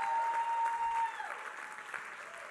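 Congregation at a New Year's Eve church service clapping and shouting, a dense wash of applause with cheering voices, fairly distant and steady, thinning slightly after the first second.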